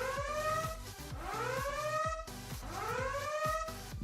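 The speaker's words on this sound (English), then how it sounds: "we should be sounding off air raid sirens right about now." An air raid siren wails in repeated rising sweeps with layered overtones, a loud steady cycle with a low rhythmic pulse beneath it.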